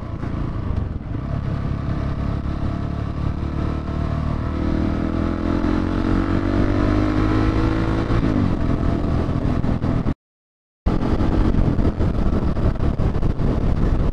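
A KTM 690 single-cylinder motorcycle accelerates hard, its engine climbing steadily in pitch before quick-shifter gear changes, loud and continuous with heavy wind roar, and a brief dropout near the end.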